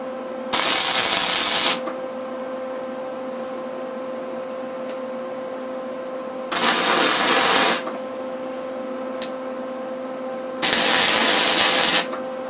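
Tack welding a steel canopy on a Kubota B7800 HST tractor: three separate crackling bursts of about a second each, spaced several seconds apart, loud over a steady low background hum, with no talk.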